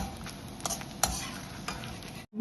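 Cumin seeds sauté in ghee, a soft steady sizzle with a few sharp spoon scrapes and knocks against the pan, brief and close, cutting off abruptly at the end.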